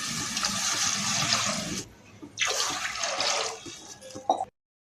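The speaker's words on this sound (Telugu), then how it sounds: "ఇప్పుడు నీళ్లు వేస్తున్నాను. నేను తీసుకున్న బియ్యం కొలతతోనే 1కి 3 గ్లాసులు నీళ్లు వేస్తున్నాను." Water is poured from a glass into a pot of fried rice and split moong dal for pongal, a steady splashing pour that pauses briefly and then resumes before stopping into silence.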